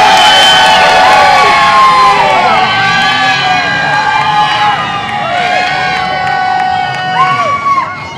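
A crowd at a live show at Waterfire cheers, whoops and shouts loudly and continuously, with high whistles and excited voices blending into one dense roar throughout.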